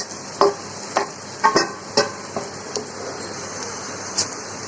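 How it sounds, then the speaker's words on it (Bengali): A paste of green chili, ginger, garlic, onion, capsicum and coriander with salt fries in hot oil for green chili chicken, giving a steady close sizzle broken by a series of sharp scraping stirs. "পেস্টটা আমি একটু তেলের সাথে কষিয়ে নিব।"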